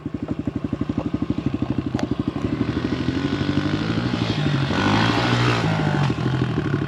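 A pit bike engine revs as it rides over whoops on a dirt track, close and loud, with a rapid steady firing pulse that climbs in pitch and builds in intensity as the throttle opens.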